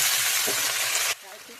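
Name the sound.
greens frying in hot oil with dried chillies and peanuts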